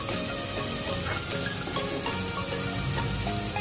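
Chopped garlic frying in a pan for a corn and spinach dish, giving a steady close sizzle and crackle that runs without pause, with no voices.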